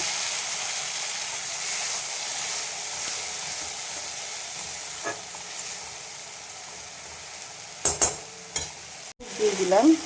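Ground spice mix of garlic, ginger, red chilli, cumin and coriander tipped onto frying onions in a pan, a steady close sizzle that flares with a few sharp scrapes and a bump near the end.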